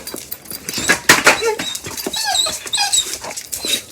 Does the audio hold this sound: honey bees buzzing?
no